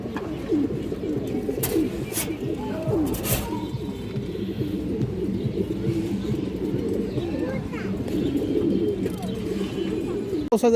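A male Giribaz high flyer pigeon coos steadily in a loft, with continuous low, rolling coo phrases close by that carry through the whole stretch, mixed with a few wing flaps and other birds in the background.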